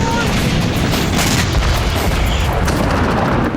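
Heavy explosions from Israeli strikes on Hezbollah sites in Lebanon form a dense, continuous rumbling roar of booms and blasts, loud and unbroken, with a voice speaking over it.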